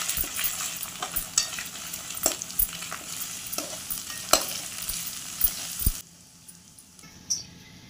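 Garam masala, chili powder, turmeric and chicken masala fry in a pan while a spoon stirs them in quick rhythmic scrapes and taps over a soft sizzle. The stirring stops abruptly, leaving a faint quiet hiss.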